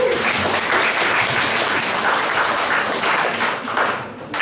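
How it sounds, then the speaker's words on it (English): A church audience gives a loud, dense round of applause for the pastor's wife, Jennifer, sustained throughout and tapering slightly at the end. "Let's a round of applause for Jennifer."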